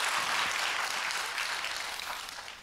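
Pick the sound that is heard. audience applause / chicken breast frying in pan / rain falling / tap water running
audience applause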